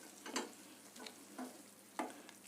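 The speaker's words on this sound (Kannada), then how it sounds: "ಸ್ವಲ್ಪ ಮುಚ್ಚಿಟ್ಟು ಮೀಡಿಯಮ್ ಫ್ಲೇಮ್ನಲ್ಲಿ ಇಟ್ಕೊಂಡು 3-4 ನಿಮಿಷ ಫ್ರೈ ಮಾಡ್ಕೋಬೇಕು." Cabbage and tomato fry in a pan over a medium flame, giving a steady soft sizzle with a few louder stirring scrapes at intervals.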